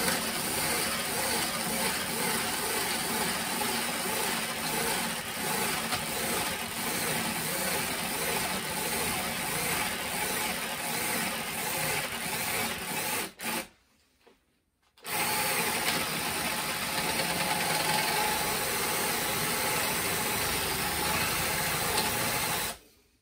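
Makita DTD153 impact driver boring into a countertop, a steady loud whirring drone that runs continuously, cuts out briefly for about a second and a half, then resumes at the same level until the end.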